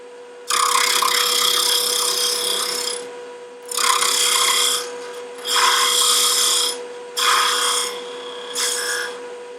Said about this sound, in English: Let's start now with a little plowing using a parting tool. I'm sorry, a skew.